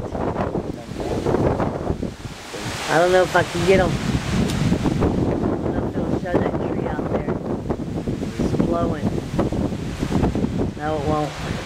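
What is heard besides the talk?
wind gusts blowing during Hurricane Ike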